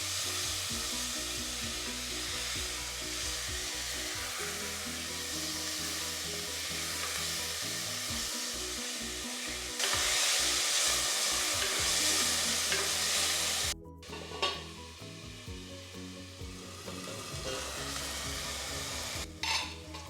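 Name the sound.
tomatoes frying in oil in a pressure cooker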